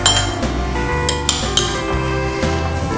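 A microwave-safe dish clinks and clatters in several sharp knocks against a steady background hum, with glassy metallic taps spaced irregularly.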